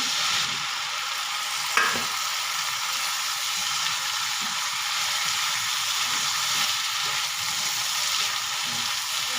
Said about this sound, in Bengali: কষানো হয়ে গেছে এর মধ্যে দিয়ে দেবো ভেজে রাখা আলু আর সিম